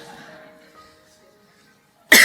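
One sharp, loud cough bursts out right at the end, following a faint, quiet stretch of murmured sound.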